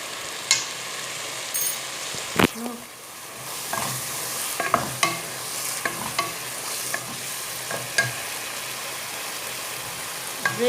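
Cauliflower tajine sauce with paprika simmering in a pot, a steady close sizzle broken by scattered scraping knocks of a spoon stirring through it, one sharp clack early on.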